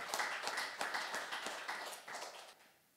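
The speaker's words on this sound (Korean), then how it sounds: "박수를 치며 하나님께 영광하시기 바랍니다." A church congregation claps during a Sunday worship service to glorify God, a quick burst of brisk, uneven hand claps that thins out and fades toward the end.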